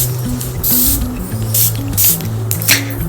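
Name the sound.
perfume being sprayed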